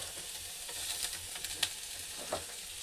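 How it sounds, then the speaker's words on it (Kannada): Sliced onions fry gently in a pan, giving a soft, steady sizzle with a few quiet stirring scrapes and clinks, close and fairly faint with no talking. "ಉಳ್ಳಾಗಡ್ಡಿ ಹುರಿದವ್ರಿ."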